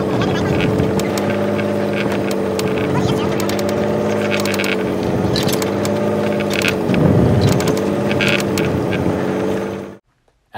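Steady, loud fishing boat engine drone running throughout with a low harmonic hum and water splashing, then cutting off abruptly near the end.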